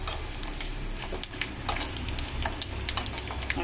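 Hot oil tempering (tadka) with turmeric sizzles and crackles in a pan, with steady frying hiss and sharp spattering pops near the mic, while cooking a bottle gourd and boiled green chilli chutney.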